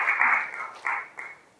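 Audience at the founding assembly of a Korean political platform claps in welcome of a lawmaker, a short burst of applause that fades out in quick waves.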